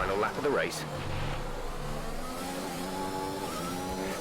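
A damaged Formula 1 team car from the F1 2021 video game drones through the Monaco street circuit on the final lap, the engine note rising and shifting steadily while a voice talks over it.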